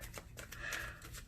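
Tarot cards are shuffled in quick, faint riffling bursts for a moment at close range.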